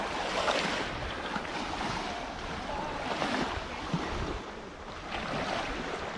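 Aegean Sea waves at Ladies Beach in Kusadasi, Turkey, a steady broadband wash of surf rising and falling in slow swells, mixed with wind buffeting on the microphone and no talking.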